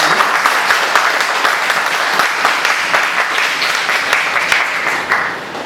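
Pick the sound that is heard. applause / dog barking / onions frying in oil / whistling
applause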